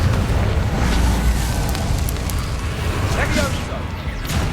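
Confringo fire curse blast in the Hogwarts Legacy video game, a loud, sustained rumbling roar of fiery explosion noise filling the whole moment, with faint crackles and whooshes over it.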